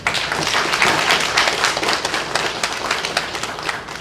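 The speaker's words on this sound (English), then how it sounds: "let's give them all a round of applause" Steady applause from a crowd at a press briefing, dense clapping that holds at an even level throughout without fading.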